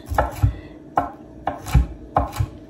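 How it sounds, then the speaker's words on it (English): A knife chops vegetables finely on a cutting board in a home kitchen, with sharp, close knocks coming in quick pairs at an even rhythm and no talking. "I like to just chop things up nice and fine."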